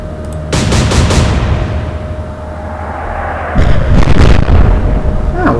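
Loud salvo from the British cruiser Sheffield in a naval warfare game, booming heavy gunfire with a first thunderous burst and a second volley a few seconds later, rumbling on between shots.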